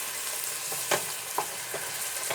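Browned lentils stuck to the bottom of a pan are mashed and scraped during frying, giving a steady sizzle broken by a few short scraping knocks.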